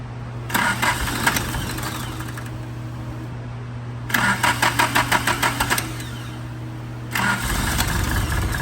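A Mitsubishi 4G64 DOHC engine cranks in repeated bursts, the starter chattering rhythmically, then catches and runs roughly on only a few cylinders with an uneven, lumpy idle.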